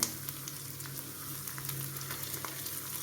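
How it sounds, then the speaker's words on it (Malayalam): Ginger, curry leaves and kanthari chillies frying in oil for an egg thoran, producing a soft, even, continuous sizzle with faint crackles, no voices. "അതൊന്ന് എണ്ണയ്ക്കകത്ത് ഇഞ്ചി ഇട്ടു കറിവേപ്പില ഇട്ടു കാന്താരി ഇട്ടു"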